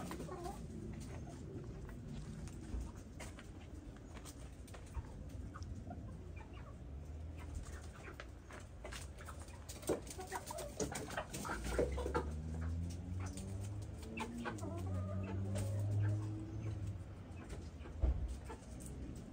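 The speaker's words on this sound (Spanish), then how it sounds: "Aquí están las gallinas ponedoras." Laying hens clucking in a poultry yard, a steady chorus of clucks and bird calls over low rumbling background noise, growing louder and busier in the second half.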